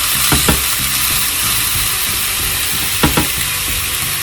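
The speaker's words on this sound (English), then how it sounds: "Listen to that sear." Tri-tip steak sears in oil in a hot pan with a loud, steady hiss and sizzle close up, broken by a few scraping clicks, with no talking.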